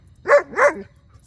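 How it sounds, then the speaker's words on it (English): Bonnie the dog lets out two quick, loud barks close by, about a third of a second apart, with no talking around them. "the little bit of barking is also not the end of the world"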